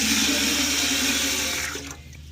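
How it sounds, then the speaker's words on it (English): Water rushes steadily while rinsing out a watering can, a loud close splashing flow that tapers off and stops near the end. "we'll walk over to the water and wash it out to begin with"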